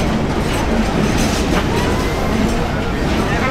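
Rocket Mail train at Daulatpur railway station in Bangladesh, a loud steady rolling rumble of rail wagons with faint clattering wheel beats throughout.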